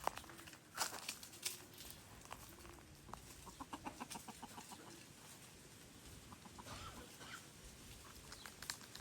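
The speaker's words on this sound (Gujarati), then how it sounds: "કાળા કુકડા છે કેટલાય બધા" Black roosters and hens cluck and crow in a rural yard, with repeated clucking calls in quick bursts at moderate distance over steady outdoor background noise.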